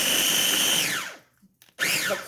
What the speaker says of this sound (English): So now I got the 2 bananas, and we're going to puree this.